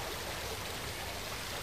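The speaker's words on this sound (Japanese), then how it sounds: "ここにね、小さなあの川が流れてるんですよ。" A small river in a mountain valley flowing strongly, a steady, loud rushing of water with no breaks, heard up close and alone.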